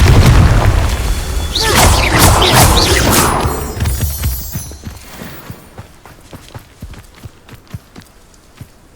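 A fiery blasting spell in a wizarding game goes off as a loud roaring explosion with crackling debris. The burst fades into scattered thumps and footsteps over several seconds.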